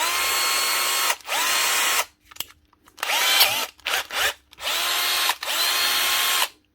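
A Bosch GSB 12V-15 cordless drill under repair runs in several bursts, its motor whining loudly and steadily between abrupt stops, with a few brief starts and clicks in the gaps and no one talking.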